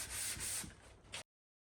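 A sanding block rubs back and forth over guide coat on a car body panel during a VIP Majesta build, a close, steady abrasive scraping in a few strokes that stops abruptly.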